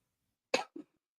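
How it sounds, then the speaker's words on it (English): A person coughs twice at close range: a sharp, forceful first cough followed by a softer, shorter second one, each standing alone against near silence. "As soon as I get on, I'm coughing."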